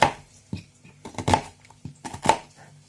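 Several knife chops through an onion on a cutting board, crisp irregular thuds close by, with quiet pauses between the cuts.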